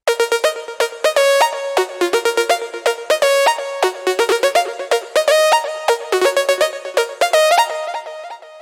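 Synth line using a Silent preset from a drum-and-bass remake, played alone: bright, rich tones in a busy run of short, shifting notes with a few held ones, steady and prominent.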